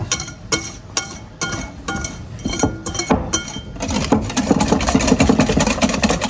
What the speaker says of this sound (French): Et on fouette à fond.